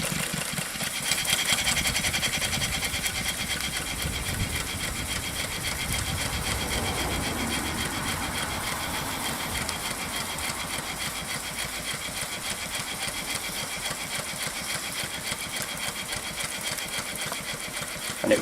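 A running Allchin single cylinder engine, a steady mechanical chugging with a continuous beat throughout, close and fairly loud with no talk.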